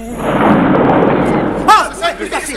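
Cartoon cannon fire from rescuers at a fort, a heavy rumbling boom that rolls on for over a second, followed by a sharp burst and a voice speaking over the fading noise.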